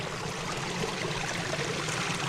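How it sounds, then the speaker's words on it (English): A mountain creek emerging from the rocks at a spring behind massive boulders, heard as a steady, fairly soft rushing and trickling of flowing water with no voices. "the creek coming right out of the rocks of the mountain here"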